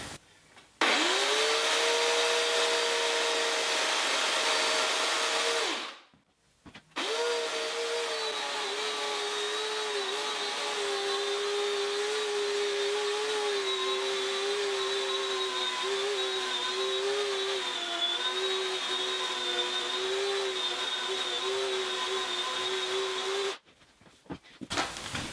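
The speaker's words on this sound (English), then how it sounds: "I'm using my electric chainsaw because we're inside." An electric chainsaw cuts a green wood bowl blank indoors, giving a loud, steady motor whine that runs for about five seconds, stops briefly, then resumes for a long continuous cut before cutting out.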